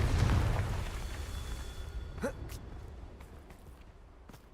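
Confringo blasting spell going off in Hogwarts Legacy, a rumbling burst that fades into a softer lingering tail, with a few sharp clicks afterward.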